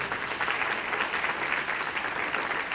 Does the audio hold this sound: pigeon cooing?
no